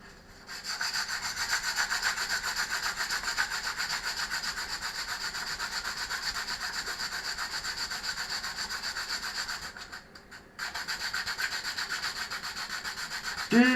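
Wood is sanded in steady, continuous rasping strokes during the restoration of a badly worn 746. The sound is close and even, with a brief pause about two-thirds of the way through.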